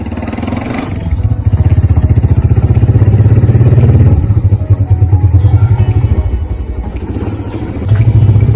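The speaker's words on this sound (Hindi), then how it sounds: "मोटरसाइकिल पे विजिट करते हैं गाँव का" A motorcycle carries its rider through a village in Pakistan, the engine close and loud with a fast, steady thumping pulse that eases briefly mid-ride before picking up again.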